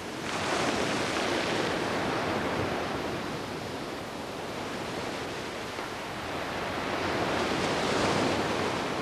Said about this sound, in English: The waves broke on the shore.